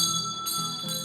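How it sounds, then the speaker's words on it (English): An old schoolhouse hand bell rings steadily, a bright sustained metallic tone with repeated strikes close to the listener, and no talking over it. "It was quite a privilege to be allowed to ring that bell."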